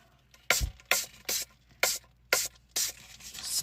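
A perfume bottle spraying in six quick, evenly spaced bursts, close and crisp, with no talk.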